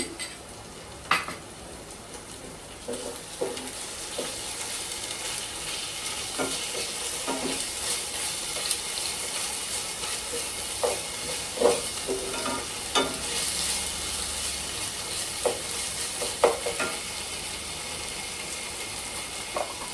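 Ginger-garlic paste frying with chana dal and ridge gourd in a pan, a continuous close sizzle broken by scattered clinks and scrapes of a spoon stirring against the pan.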